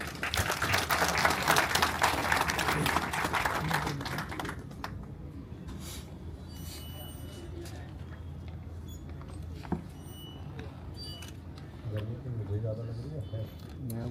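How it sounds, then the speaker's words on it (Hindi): An audience applauds to welcome a guest at a gathering, dense clapping for about the first four seconds that then fades into room noise, scattered claps and people talking. "आप लोग तालियों से उनका स्वागत करेंगे।"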